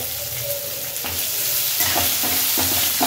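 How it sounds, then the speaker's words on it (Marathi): Finely chopped onion frying in a pan with peanuts for a Maharashtrian matki bhaji, a loud steady sizzle with scraping stirs of a spoon, close and without talk. "तर कांदा आपला फ्राय होतोय"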